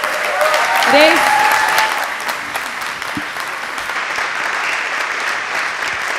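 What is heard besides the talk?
audience applause for Boštjan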